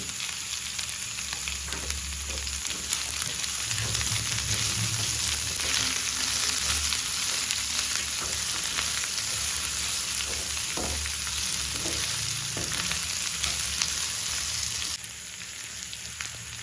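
Crushed ginger and onion frying in a pan for a mushroom gravy, a dense steady sizzle and crackle with light stirring throughout, close and fairly loud, no voices.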